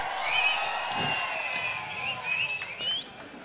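Crowd at the Ratnagiri Champions Trophy 2017 cricket match cheering and hooting steadily over a continuous murmur, with scattered whistles and faint clapping, spectators fairly distant.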